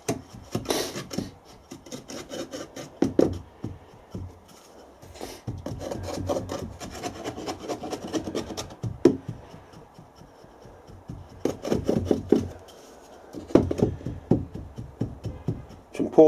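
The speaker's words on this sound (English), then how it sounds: "the sand must be rammed down, packed nice and firmly around the pattern, especially in the corners of the boxes" Moulding sand being rammed and packed firmly around a casting pattern in foundry boxes for bronze casting: bursts of gritty scraping and rubbing with dull thumps, close by, alternating with short pauses.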